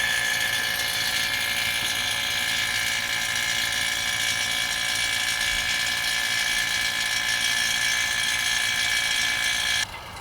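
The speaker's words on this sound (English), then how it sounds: "go ahead and turn the vacuum pump on for 30 minutes and let it go ahead and does its work" A vacuum pump draws down the air-conditioning system of a Nissan Armada, running as a loud, steady mechanical drone with a constant whine, close by and unbroken until it drops off abruptly near the end.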